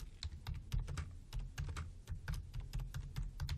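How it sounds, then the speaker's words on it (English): Rapid keystrokes on a computer keyboard, a close, quiet run of crisp clicks in an uneven typing rhythm with short pauses, no talking. "I'm going to hit my tab key, and I'm just going to type in Bank of Florida"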